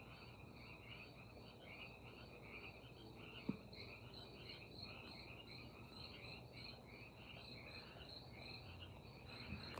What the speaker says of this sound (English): Got crickets and we got frogs tonight.